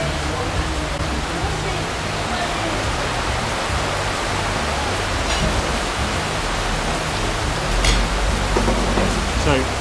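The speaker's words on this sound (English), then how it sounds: "It's the sound of the rain hitting the floor," Heavy tropical rain pours onto the ground in Havana, Cuba, a steady, dense hiss close by that holds at an even loudness for the whole stretch, swelling slightly near the end.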